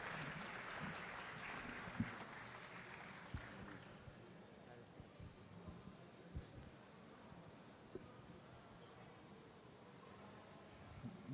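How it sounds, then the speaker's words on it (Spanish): Audience applause welcoming a speaker at a Fuckup Nights event in Bucaramanga, clapping that is fairly loud at first and then thins out over several seconds, followed by a few scattered claps and knocks. "Un aplauso para Carlos Ibáñez que nos va a contar su historia de fracaso"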